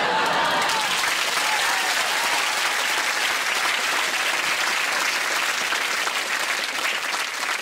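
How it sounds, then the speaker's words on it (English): A television comedy studio audience claps and cheers after a stand-up bit, sustained dense applause that holds steady throughout with a brief voice near the start. "Thanks for clapping"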